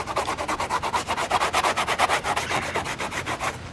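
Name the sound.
rubbing old car headliner backing material off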